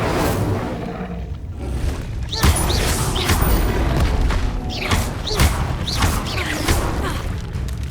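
Incendio fire spell cast in Hogwarts Legacy: dense, loud roaring bursts and booming whooshes of flame, repeated several times over a continuous thick rumble, with no talk.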